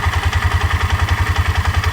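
Engine idling with a steady, fast low thumping rhythm and slight clatter, close and loud with no talk; the engine has a broken wire.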